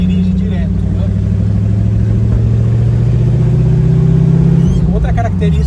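Bianco prototype car with a 340 hp V8 engine cruising in fourth gear, a loud, steady low rumble heard from inside the cabin, with a slight pitch shift near the end; someone talks over it.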